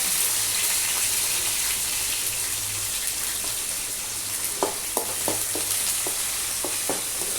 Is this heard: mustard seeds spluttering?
yes